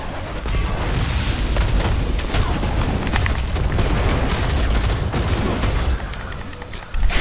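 Gunfire in the Destiny video game, from a SUROS scout rifle battle, with dense, continuous volleys of shots and booming impacts for about seven seconds.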